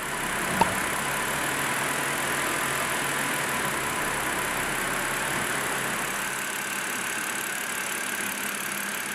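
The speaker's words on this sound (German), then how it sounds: "Zu empfehlen ist einmal Motor starten, die einzelnen Gänge durchschalten" BMW 5 Series E61 engine idling steadily with a constant mechanical hum and no talk; a brief click near the start, otherwise an even, unchanging drone.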